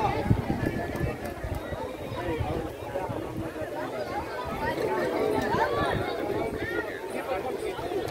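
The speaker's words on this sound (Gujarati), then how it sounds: "જુવા ગાયો ચાલી આવે છે" Many hooves clop unevenly on the ground as cattle walk past, with people chattering and talking throughout.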